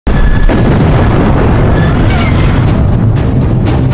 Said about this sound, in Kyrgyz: аларды замбирек менен атууну буйруйт